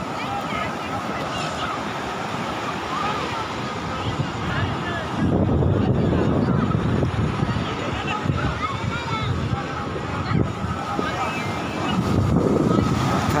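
Sea waves break and wash onshore in a steady, loud surf roar with wind buffeting the microphone, and people talk nearby throughout.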